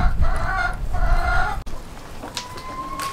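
Laying hens clucking inside their coop, with several drawn-out, nasal calls coming in quick succession, then a sharp click and quieter clucks and chirps trailing off, fairly close and with no talking.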